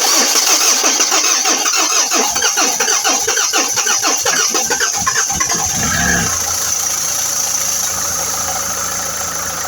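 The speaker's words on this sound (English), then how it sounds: "now while we are pumping the fuel pump, we'll crank the engine." A diesel engine that burns oil is cranked by the starter while the fuel pump is primed. It chugs rhythmically for about six seconds, then catches and settles into a loud, steady idle, close to the microphone.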